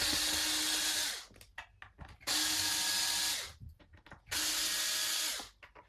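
Power tool, likely a drill or screwdriver, backing screws out to remove a Floyd Rose tremolo from a Jackson Stealth EX guitar body during a restoration; three loud, close whirring bursts of about a second each, separated by short pauses with small handling noises.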